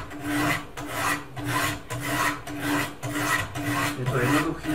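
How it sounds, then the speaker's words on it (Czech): Knife edge drawn over a coarse stone on a KMFS sharpener, a precision knife sharpener of the second generation: rhythmic rasping strokes, about seven in a row at an even pace, close and loud, with no talking. "Brousím vlastně takhle, já to ukážu proti ostří."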